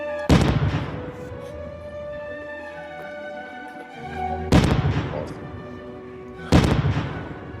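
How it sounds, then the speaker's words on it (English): Three loud, sharp blasts of small explosions spaced a few seconds apart, each a close boom with a ringing, crackling decay, while voices talk underneath. "These are little explosions."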